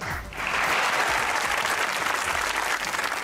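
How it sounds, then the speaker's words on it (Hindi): A comedy talk show studio audience bursts into applause after a brief pause, a loud, dense clatter of clapping that carries to the end. "तालियां"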